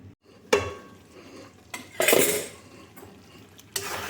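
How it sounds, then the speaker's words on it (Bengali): Tomato chutney ingredients being stirred and mixed in a pan, with a few sharp clanks and scrapes of a utensil against the metal and quieter gaps between them. No one talks. "এগুলো ভালো করে মিশিয়ে নিচ্ছি"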